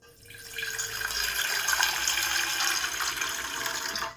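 Water poured or running into a kitchen vessel for making sugar and jaggery syrup for sweets, a steady close splashing flow that swells and holds for a few seconds.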